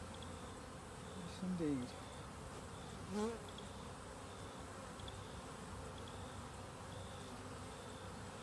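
Many honeybees buzz inside an open beehive, a steady close drone of wings filling the space, with a few brief louder passes near the ear and a person speaking briefly.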